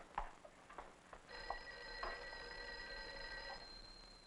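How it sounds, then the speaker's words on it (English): A telephone bell rings in a 1959 film scene, a steady electric trill starting partway through and running to the end, with a couple of soft clicks and taps before it. "I think your phone is ringing"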